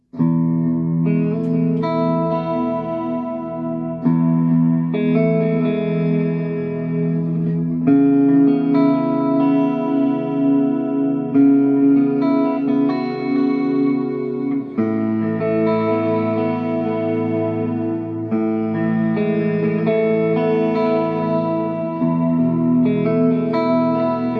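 Electric guitar played clean through a Marshall JTM Studio amplifier, sustained chords and picked notes ringing with light reverb, loud and close, without any talking.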